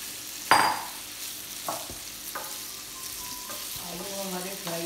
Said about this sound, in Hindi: आलू हमारे फ्राई हो रहे हैं